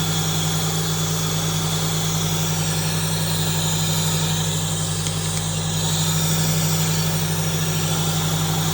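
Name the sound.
car engine idling while warming up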